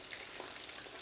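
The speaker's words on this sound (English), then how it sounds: "So little by little, I'm frying." Pieces of food fry in hot oil for a Korean cooking lesson, a faint, steady crackle and sizzle with small pops scattered through, no voices.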